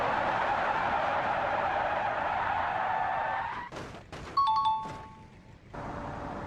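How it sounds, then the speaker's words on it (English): An old rusty Volkswagen Beetle emergency braking in CarX Drift Racing: a steady engine drone fades out, followed by a short tire screech and a few sharp high-pitched squeals. "Emergency braking for all these Volkswagens to see which one is the best. Starting with the old rusty Volkswagen Beetle."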